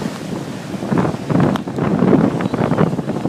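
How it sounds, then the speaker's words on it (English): Strong wind gusts buffet the microphone on a storm-damaged beach, a rough, low roar that surges and dips, with possible surf blended underneath and no speech. "it really is this windy."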